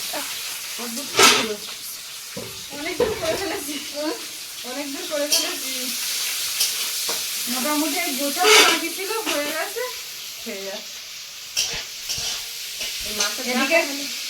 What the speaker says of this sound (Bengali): তেল দিলাম দিয়ে এবারে পেঁয়াজ কুচি দেবো